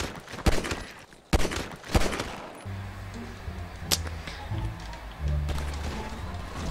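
Pistol shots fired in a one-on-one GTA 5 Online match: a few sharp, loud cracks in the opening two seconds, then quieter game sounds with a low engine-like drone and one more distant pop.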